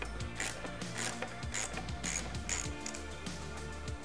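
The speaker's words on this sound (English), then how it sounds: "You'll use your crescent wrench or equivalent to hold the nut on the far side of the frame, and then you'll just undo the bolt from this side." A wrench working the main pivot bolt on a Cascade Components Meta AM 29 mountain bike frame gives a steady run of close, metallic ratcheting clicks with a few louder knocks, and no talk.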